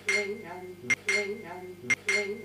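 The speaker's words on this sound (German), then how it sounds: "Gläser, die klingern." Drinking glasses clink in sharp, bright strikes roughly once a second, cutting through a sustained, humming, voice-like tone that runs underneath throughout.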